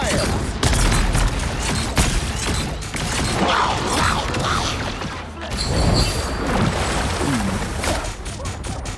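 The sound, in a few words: rockets firing in the video game Marvel Rivals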